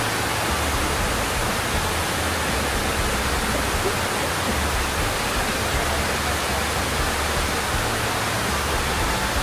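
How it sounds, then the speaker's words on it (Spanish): Water pours continuously into the 9/11 memorial fountain at the South Tower site, a steady, dense broadband rush like a waterfall, loud and unbroken throughout with no voices. "esto es fuente de, bueno, de agua, como es normal. Siempre la tienen encendida"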